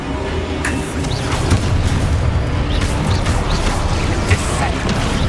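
A fiery explosion spell bursts in Hogwarts Legacy, its booming blasts and crackling pops layered over dense, loud game combat noise with no pause through the whole stretch.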